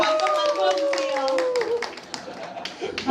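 A church congregation claps together during a Sunday worship service, a dense patter of many hands lasting about three seconds beneath a voice and tonal sounds.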